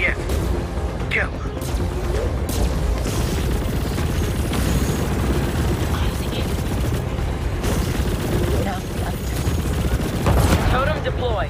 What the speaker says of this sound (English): I'm heading over now to lay down some cover fire.